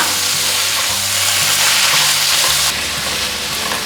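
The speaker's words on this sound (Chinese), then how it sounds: "现在放入高丽菜，加入少许的水，黑白胡椒、玫瑰盐，快速翻炒" Cabbage stir-fried with a little water, black and white pepper and rose salt gives a steady, loud sizzle with a brief low rumble of stirring partway through, and no voices.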